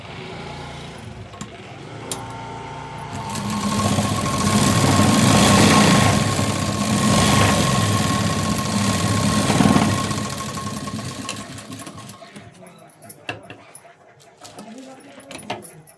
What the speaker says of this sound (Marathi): आता इथे मी 3-4 शिलाई देऊन घेते.